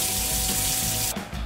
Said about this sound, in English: Get your pot filled up with water.